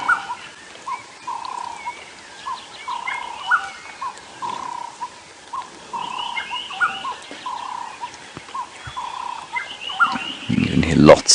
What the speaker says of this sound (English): You can hear lots of birds calling around there.